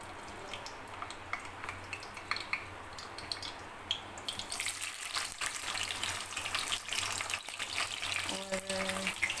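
Onions drop into hot oil with crushed garlic in a home kitchen, and a low simmer jumps into a loud, steady crackling sizzle that keeps going.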